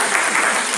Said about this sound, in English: Note to self, incite gleeful clapping.